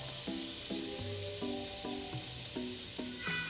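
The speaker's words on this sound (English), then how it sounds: "I'm also going to add some butter right now before I put in the spinach" Butter sizzling in a pan while Tuscan chicken cooks, a constant soft hiss under a quiet melodic music track with plucked notes.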